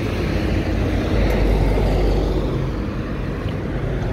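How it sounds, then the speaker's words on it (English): Street traffic in a quiet neighbourhood of Quetzaltenango, Guatemala: a steady, fairly loud rumble of cars passing close by, with no pauses. "plenty of traffic, people"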